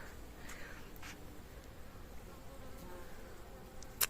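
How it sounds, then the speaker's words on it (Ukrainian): A bumblebee buzzes close by among flowering plants outdoors, a soft steady hum that drifts slightly in pitch, with no talking over it. "Ой, який же ти мохнатий. Джміль."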